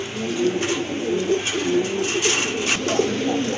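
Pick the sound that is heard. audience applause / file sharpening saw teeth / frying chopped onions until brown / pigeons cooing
pigeons cooing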